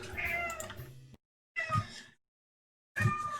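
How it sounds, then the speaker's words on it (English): A pet cat outside a window gives three separate, clear meows, each about half a second to a second long with silent gaps between them, close and fairly loud with no talk. "It's a very pretty cat, but she occasionally just shows up outside my window."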